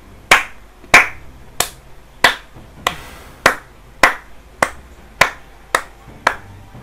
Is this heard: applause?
yes